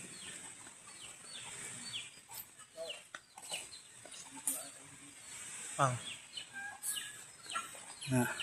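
Chickens cluck and squawk in a busy farmyard, with occasional louder geese calls and honks rising over a steady background of bird noise and some distant voices.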